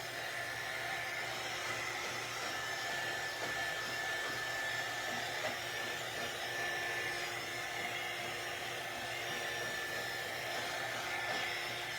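A hair dryer blows continuously on a painted scarecrow craft, a steady close whooshing hum with a faint whine, alone and unchanging throughout.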